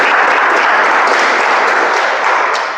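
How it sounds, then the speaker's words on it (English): A brief, loud round of applause at a Toastmasters meeting, dense close clapping from a small group sustained evenly for a few seconds without talk. "Can I have a round of applause for all of you?"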